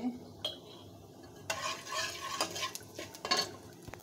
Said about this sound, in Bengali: একটু আস্ত জিরা দিয়ে দিচ্ছি।